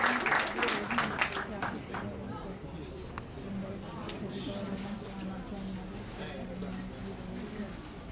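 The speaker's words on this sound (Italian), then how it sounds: "quindi un grande applauso a Sara." Applause from an audience at an award ceremony, strongest at the start and then settling into steady clapping that carries on throughout with a busy, murmuring background.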